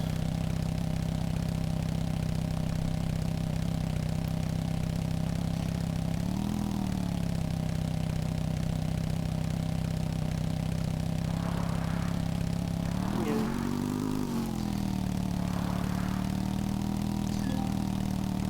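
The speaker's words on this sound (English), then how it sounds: "it's this point where the motorbike isn't brilliant if you need to go uphill across any kind of uneven terrain" A motorbike engine in the survival game Empyrion Galactic Survival drones steadily while climbing uneven hilly terrain, its pitch briefly rising and wavering a few times as it strains.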